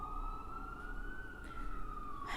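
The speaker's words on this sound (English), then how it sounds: "Why do these sirens keep going off?" An emergency siren wails outside, a steady, slowly drifting tone held at moderate distance with a faint background hum.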